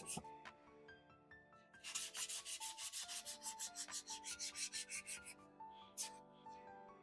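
Wet sanding of a Micro Draco rifle bolt with 320-grit sandpaper dipped in water gives quiet, rhythmic back-and-forth rasping strokes, about a dozen in steady succession, close and alone without talk.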